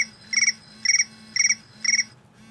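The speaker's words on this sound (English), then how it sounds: "crickets" Crickets ringtone from an iPhone 5 on iOS 6, playing four evenly spaced bursts of rapid high chirping, each a short trill, clear and close, with a low hum beneath and no talking.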